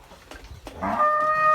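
A young, nearly full-grown bull on a village cattle farm gives one loud, sustained moo that starts partway in and holds to the end, close by, after faint barn noises.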